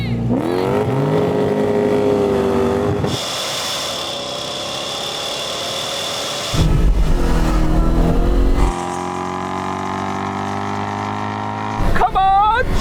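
A drag race car with a stock naturally aspirated Toyota engine and a five-speed W50A stock transmission, loudly accelerating through several gear changes, each rise in revs cut by a shift, with people talking over the engine.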